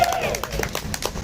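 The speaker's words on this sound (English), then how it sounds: "you can clap, you can give it up." Crowd clapping at a rally against water privatization outside the Montgomery County Courthouse in Norristown, with bursts of claps breaking through under a speaker's amplified voice.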